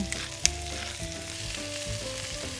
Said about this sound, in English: Fry off my onion, garlic.